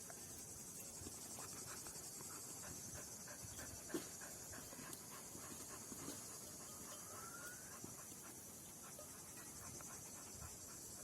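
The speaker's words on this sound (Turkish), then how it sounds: "Adamlar maşallah tam sürü köpeği oldu ha." A Kangal dog pants quickly and steadily nearby, its breaths running continuously against a constant high chirring of crickets.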